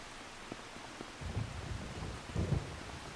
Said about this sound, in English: And the rain has arrived right on cue at 5 o'clock.